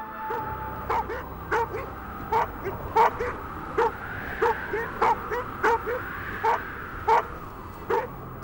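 A pack of sled dogs barks in repeated sharp bursts at a polar bear, fairly close, with short yips and whines between the barks.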